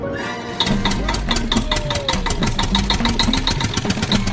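A tractor engine runs in a village, a loud, steady rhythmic chugging with regular knocking beats, close by and dominating the scene.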